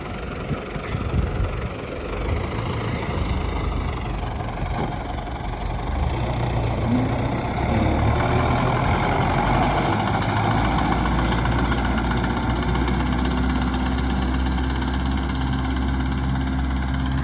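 A tractor in seventh gear, spraying a crop field, drones steadily and loudly throughout, a continuous low rumble with a faint hiss layered on top.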